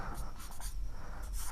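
Chalk or marker scratches across a board during a maths lecture in short repeated strokes, steady and close, with no speech.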